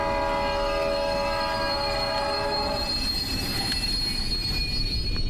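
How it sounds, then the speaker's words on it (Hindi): Train wheels screech in a high, sustained multi-tone squeal as a train comes to a stop in a Japanese horror video game, loud and continuous with a rumbling rail drone beneath that carries on after the squeal fades. "ट्रेन अपने आप रुक गई क्या?"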